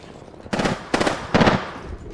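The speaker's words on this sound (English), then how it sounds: "I am taking fire, friends." Three short, loud bursts of gunfire in Apex Legends come in quick succession over a quiet background.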